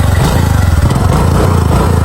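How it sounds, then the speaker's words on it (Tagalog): A motorcycle engine revs loud and close, a continuous throaty roar with slight pulsing that stays steady throughout. "Tanawa, kung unsa ni kakusgan akong motor."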